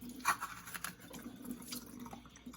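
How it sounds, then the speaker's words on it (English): Water trickling and splashing as it drains through a cut in the bottom of a plastic container during beeswax rendering, a faint, steady, tap-like flow with a few small splashes, no voices. "I'm going to let the water out"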